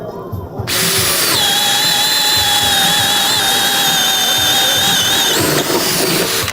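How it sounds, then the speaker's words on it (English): Cordless power drill spinning a bit at steady high speed, a loud continuous whine with sustained tonal harmonics that starts abruptly after a brief pause and holds for several seconds, close to the microphone with no talk. "the bit drill worked flawlessly when I wasn't acting like a lunatic and pushing on it"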